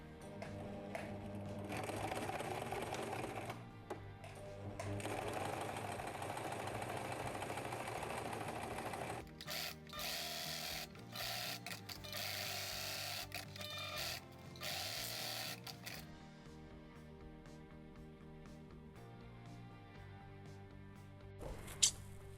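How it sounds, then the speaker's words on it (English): A sewing machine stitches fabric sides of a strap for a concrete doorstop, running in long steady bursts with brief pauses between runs, close and clear with no talking. "I'm going to be sewing the sides now"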